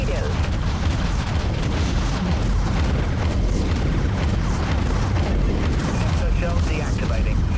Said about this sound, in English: I launch torpedoes.